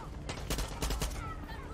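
Rifle gunfire in the Far Cry 6 video game, a burst of several sharp shots in quick succession during combat, loud and close with a steady background din behind it.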